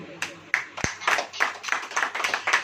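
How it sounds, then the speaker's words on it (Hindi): A church congregation claps along during a sermon, a loose rhythmic clapping with uneven beats and one sharp thump, with a voice talking through it. "ताली बजाइए।"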